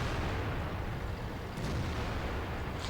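Tank cannon fire from the World of Tanks video game, with dense booming low rumble and crackling blasts throughout, plus a sharper burst midway, loud and continuous without talk.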